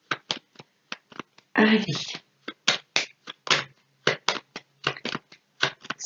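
Playing cards being laid down and shuffled on a table during a card reading, a string of crisp slaps and flicks in uneven rhythm with a brief riffle, close and clear, with a short spoken word.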